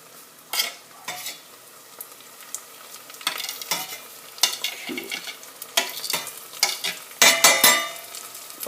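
Peppers stirred into cooked onions in a pan for chicken tikka masala, heard as uneven bursts of crackling sizzle and scraping stir strokes that grow busier toward the end, with no speech.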